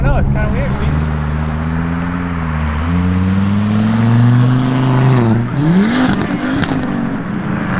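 Cars roll past at a car meet, a loud, close engine drone that shifts in pitch and climbs as a vehicle accelerates past, with other motors rumbling in the background.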